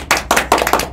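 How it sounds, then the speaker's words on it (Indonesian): A few people clap for a school event team in short, close bursts, four or five quick rounds of hand claps in under a second. "Tepuk tangan dulu buat tim pro semuanya"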